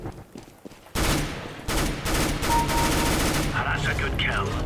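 Rapid gunfire from Counter-Strike: Global Offensive erupts loudly after a quiet start, with dense bursts of automatic fire continuing to the end, with brief chatter and weapon effects layered in.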